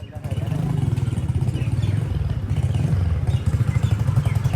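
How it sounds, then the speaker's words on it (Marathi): A motorcycle with a loud aftermarket silencer exhaust thumps out a fast, even pulsing beat close by while riding, with voices faintly underneath. "सायलेन्सर बघा, एकदम पट्टेशीर वाज"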